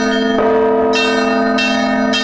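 Monastery church bells ring out from a bell tower above the Zhiguli mountains and the Volga, loud and close, with a sustained humming tone and several fresh strikes layering bright clangs over the decaying ring.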